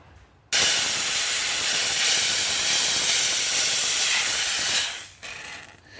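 Loud, steady hiss from a garment steamer on its triple steam setting as it heats a C7 Corvette sun visor decal, starting abruptly, holding for about four seconds, then tapering off into a quieter, fainter hiss.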